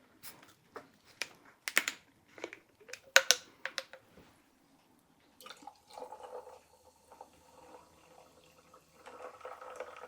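Soda water topping up a cocktail of stinging nettle cordial and lime juice over ice, starting with scattered clinks and drips, then turning into a soft, steady fizzing pour close by.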